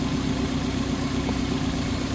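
The engine of a 2003 Toyota Matrix with a number 3 cylinder misfire runs at a steady idle, a close, continuous low rumble with no voices.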